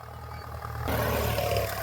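A Ford 5000 tractor engine idles with a low, steady chug that grows louder and rougher partway through as it revs up, heard nearby with no talk.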